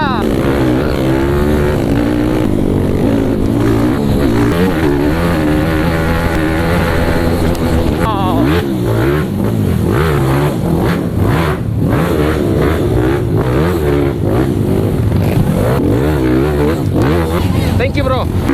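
A trail motorcycle engine revs hard and repeatedly on a muddy track, loud and close, with its pitch climbing and falling throughout while people talk and shout over it.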